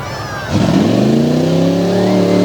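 Team Nasty Bronco monster truck at an arena show in Bangor, Maine, its engine surging up from a lower idle into a loud, sustained rev with rising pitch that holds strong to the end.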